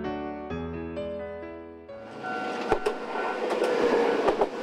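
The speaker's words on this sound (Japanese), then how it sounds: "列車は善光寺平と呼ばれる盆地を北上します。" A Nagano Electric Railway limited express Yukemuri train opens with a sustained tonal whine, then swells into a rushing rumble broken by sharp, spaced wheel clacks, loud and close, with no voices.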